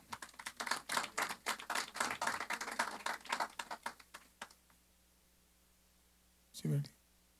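Scattered clapping from the audience at a small Urdu poetry gathering greets a poet: crisp, uneven hand claps that thin out and fade over about four seconds, followed by silence and a brief voice.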